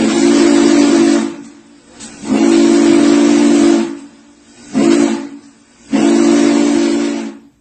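Steam locomotive 611 sounding its whistle in four long, loud blasts with short gaps between, the last two shorter and closely spaced, with hissing steam.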